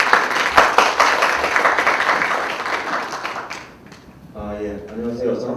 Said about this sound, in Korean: 박수 맞아주시기 바랍니다.